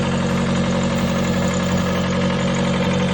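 A Honda car engine idles with a valve lash problem, a loud, steady low hum carrying a fine rapid ticking throughout, close up and with no talk over it.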